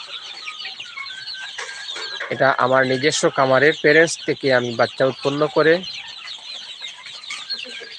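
Pure native desi chickens cluck repeatedly nearby at a farm raising chicks, with someone speaking at length over and between the calls.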